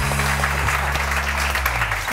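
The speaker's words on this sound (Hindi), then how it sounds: "तालियां!" Studio audience applause on a morning television show, a steady mass of clapping over a low hum, lasting a couple of seconds.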